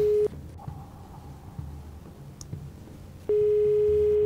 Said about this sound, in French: On essaie d'appeler le joker de Zishan.